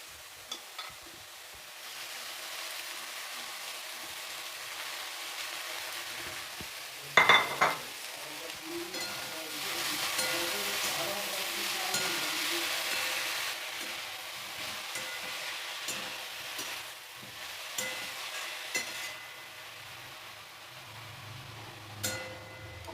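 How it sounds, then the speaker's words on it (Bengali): Fenugreek greens and eggplant fried together in a pan, with soft sizzling under intermittent spatula scrapes and clinks against the metal, a louder knock early on and quieter stirring through the rest. "খুব ভালোভাবে শাকটাও আমি নাড়াচাড়া করে নিয়েছি।"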